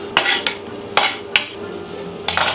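A knife chopping spinach roughly on a board, a handful of sharp, separate cutting knocks spaced irregularly over a low background hum, close and clear, with no talking.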